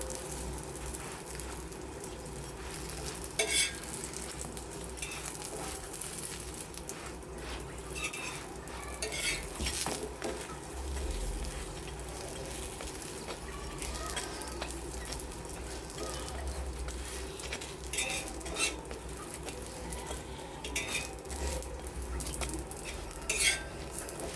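Aloo paratha frying in oil on a pan, giving a steady close sizzle with scraping and clinks of a utensil against the pan throughout.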